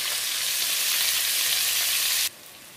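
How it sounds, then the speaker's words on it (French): Onions sizzle and fry in a pan for a vegetable curry, a steady, loud hiss that runs without a break and then drops abruptly to a quieter sizzle near the end. "on laisse rissoler le tout"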